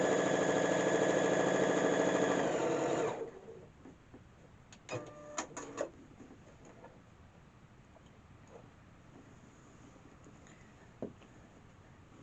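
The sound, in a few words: sewing machine stitching a quilt block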